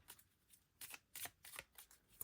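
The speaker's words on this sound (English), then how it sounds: "I can't ruffle shuffle these. They're so tiny." Tiny tarot cards are shuffled by hand, a quiet run of soft, crisp riffling bursts in an uneven rhythm, close and alone.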